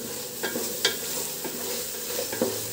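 Biryani masala stir-frying in hot oil in a pan, a steady bright sizzle with a few scraping stirs of the spoon, close and continuous, no voices.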